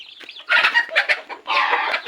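A chicken clucks close by, a short series of bright, squawky calls in quick bursts with brief pauses between.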